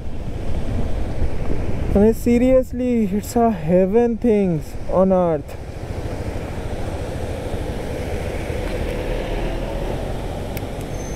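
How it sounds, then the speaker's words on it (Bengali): A mountain waterfall in North Sikkim, on the road between Mangan and Lachen, pours down from high above with a steady, close, broadband roar that runs the whole time, while someone talks briefly over it. "সামনের ঝর্ণাটা দেখুন কত উপর থেকে আসছে"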